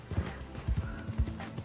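A horse's hooves clip-clop at a steady walking rhythm in the Red Dead Redemption 2 video game, close and moderately loud with a soft background bed.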